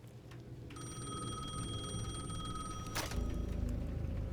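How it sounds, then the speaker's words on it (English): A payphone at the edge of a plaza rings in Alan Wake 2, a steady electronic bell tone held for a couple of seconds before cutting off, faint over low game ambience with no talk. "The payphone at the edge of the plaza was ringing again."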